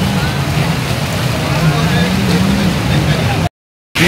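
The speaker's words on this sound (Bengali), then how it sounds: "আর এগুলো হলো সব স্পিড বোট।" Speedboats at Koh Larn island in Pattaya, Thailand, give a steady, close engine drone with a low hum that runs without a break for about three and a half seconds, mixed with a voice, then cuts out briefly.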